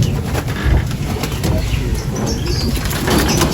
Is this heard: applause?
no